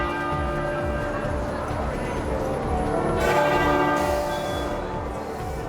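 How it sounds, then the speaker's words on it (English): Church bells toll in mourning for Queen Elizabeth II, a steady ringing with sustained overtones that swells louder toward the middle and holds throughout. "Across the country, bells tolled in memory of Queen Elizabeth II"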